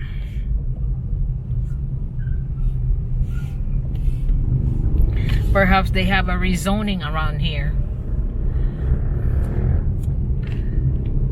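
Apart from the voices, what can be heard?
road traffic in a city street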